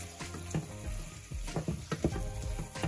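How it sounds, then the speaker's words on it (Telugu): Vegetables for white sauce pasta sauté briefly in a hot pan, a steady close sizzle broken by the knocks and scrapes of stirring, with no talking. "అందుకని 30 సెకండ్స్ మనము సాటర్ చేసుకుంటున్నాము"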